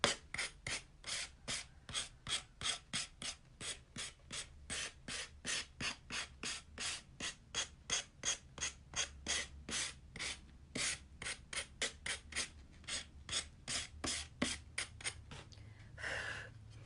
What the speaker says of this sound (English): So I'm gonna go back to my sanding block.